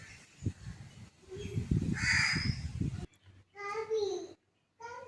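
Outdoors, a crow gives several harsh, repeated caws in quick succession, while a baby babbles and a person speaks softly nearby.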